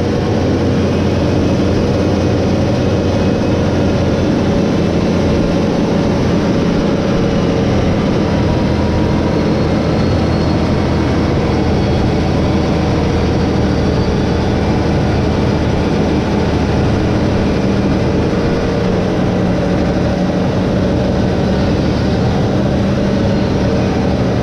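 A John Deere 8RX 370 tractor with a 370 horsepower engine drives over humps and bumps while moving a corn harvest, giving a loud, steady low engine drone with a heavy rumble throughout.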